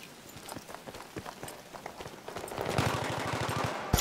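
Gunfire in a competitive scrim match on the Grand Bazaar map: scattered single shots, then a fast automatic burst of evenly spaced reports near the end, fairly quiet and distant-sounding.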